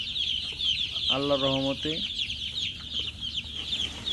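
Five-day-old Sonali super hybrid chicks peep in a steady high chorus, with one louder, clearer clucking call standing out near the start; someone speaks briefly over them.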